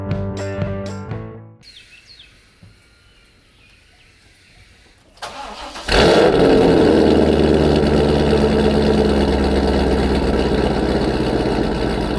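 A Corvette C5 Z06 fitted with a CORSA Extreme exhaust cranks briefly after a quiet pause, then fires into a loud, deep, steady idle rumble up close.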